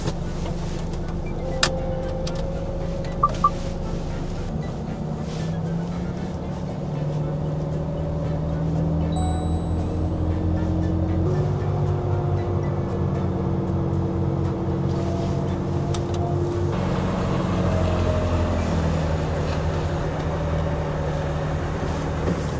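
A car on a Greek-route motorway cruises with a steady engine drone and road roar, the tone shifting gradually as gears and speed change over a long stretch, close and continuous with no talking.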